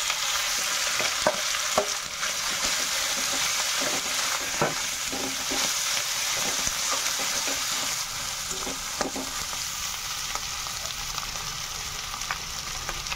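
Potatoes go into hot oil with dried red chilli, sizzling and frying steadily while a utensil scrapes and stirs in irregular clacks, close and continuous with no talking.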